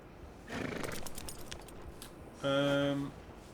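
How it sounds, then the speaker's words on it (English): In Red Dead Redemption 2, a horse gives a single short whinny with a clear pitched tone near the end, after a brief burst of snorting or shuffling. "This is Billy the horse"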